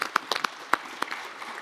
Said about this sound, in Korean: 다음은 박수 한번 쳐야 되겠어요